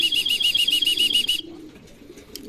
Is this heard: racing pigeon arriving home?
yes